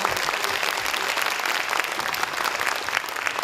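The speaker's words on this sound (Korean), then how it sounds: "여러분 다시 한번 큰 박수 부탁드리겠습니다." Audience applause at the close of a 2025 Gyeongbuk education-office town-hall talk with the superintendent in Andong, steady dense clapping from a sizable crowd throughout, loud and unbroken with no speech over it.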